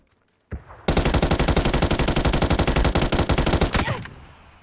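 Rapid automatic M4 fire in PUBG, a dense burst of about three seconds of evenly spaced loud shots after a single earlier shot, then a fading tail.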